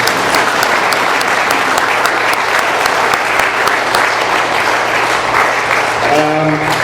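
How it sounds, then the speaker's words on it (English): An audience at an AA meeting in Doylestown, Pennsylvania gives a speaker a dense, loud round of applause that continues steadily throughout, with a voice starting to speak near the end. "One more round of applause."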